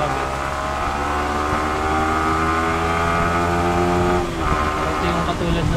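A Yamaha R15 v3 motorcycle with a stock air filter and stock ECU accelerating through second, third and fourth gear, its engine droning loud and close with steady tone and a brief dip at a shift.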